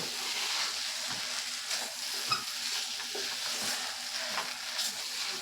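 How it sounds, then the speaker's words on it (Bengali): Potatoes and a sticky mung dal poppy-seed paste sauté in a pan, a low continuous sizzle broken by repeated spatula scrapes and stirs at an even pace, close and fairly quiet. "আলু আর মুগ ডাল পোস্ত পেস্টটা দিয়ে ভালো করে একটু কষিয়ে নেব।"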